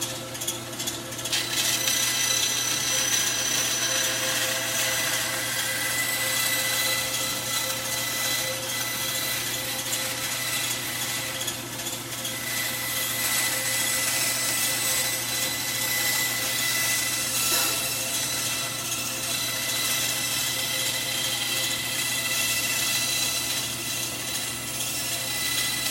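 A band saw cuts through wood with a steady, loud mechanical hum and buzz that stays unbroken for about twenty-five seconds, with the blade's rasp shifting slightly as the cut progresses.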